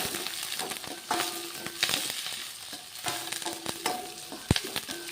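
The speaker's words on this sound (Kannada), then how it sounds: "ಇವಾಗ ನೋಡ್ರಿ ಶೇಂಗದ ಕಾಳು ಹಾಕೋಣ" Peanuts are tipped into a hot pan with oil and stirred, giving a steady soft sizzle broken by scraping stirs and a few sharp clinks, fairly quiet and close.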